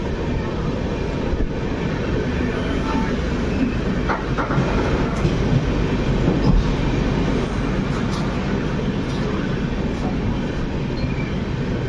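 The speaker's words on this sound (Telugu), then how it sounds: "రామగుండం రైల్వే స్టేషన్ నుండి మన ట్రైన్ అయితే స్టార్ట్ అయిపోయింది." A passenger train leaving Ramagundam station rolls steadily along the tracks, a continuous loud rumble with faint rhythmic clatter and occasional metallic squeaks throughout.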